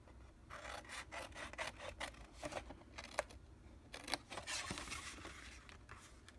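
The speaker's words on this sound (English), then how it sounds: "Let's cut up on this score line to that center." Paper being cut along a score line while making a gift box gives soft, close scraping and rasping strokes in short irregular bursts, quiet and with no voice over them.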